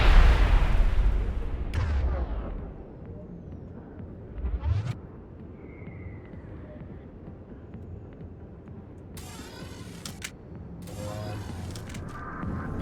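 Grenade explosions in the video game Mass Effect 1: a heavy blast at the start, a duller thump a few seconds later, then bursts of crackling combat noise over a steady game backdrop.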